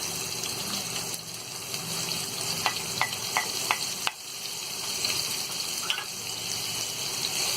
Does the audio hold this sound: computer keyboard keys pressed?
no